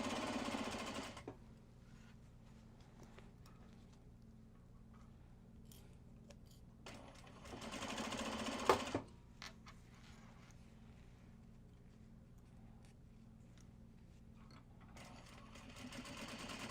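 A sewing machine basting seams on a Japanese fabric bag runs in three short, close bursts of rapid stitching at the start, middle and end, separated by quiet gaps with small handling noises.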